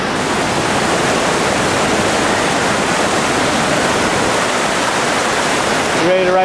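A loud, steady roar of falling water at Banalore Falls, a waterfall among trees standing in the water, fills the whole stretch as continuous broadband rushing noise that stays even from start to finish.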